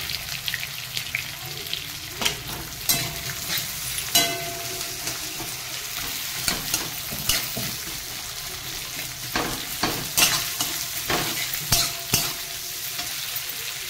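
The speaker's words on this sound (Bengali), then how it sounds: "আর এই যে চীনা বাদাম একটু ভেজে রেখে দিয়েছিলাম শুকনো কলায়, এবার এটা তেলের উপরে দেবো।" Peanuts and garlic fry in hot oil with a continuous sizzle, broken by repeated close clacks and scrapes of a spoon stirring against the pan.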